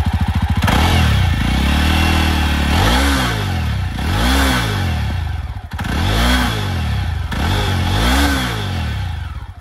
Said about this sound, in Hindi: तो आप चलिए सुनते हैं पहले इसका एग्जॉस्ट